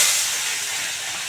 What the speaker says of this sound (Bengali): 3 পিস করে মাছ ভেজে নেবো। একটু ভালো করে ভাজা হোক।